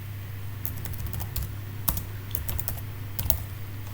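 Keys clatter on a computer keyboard in short irregular bursts of close, crisp clicks over a low steady hum, with no voices.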